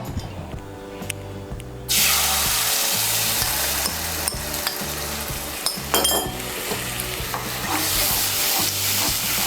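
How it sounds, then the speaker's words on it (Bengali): Besan batter frying in hot oil and stirred with a spatula: a loud, continuous hiss of bubbling oil breaks out after a quieter start, with repeated scraping strokes and a steady low hum throughout. "তেলটা গরম হলে এর মধ্যে আমি দিয়ে দেব বেসনের ব্যাটারটা।"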